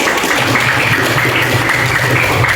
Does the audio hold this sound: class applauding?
yes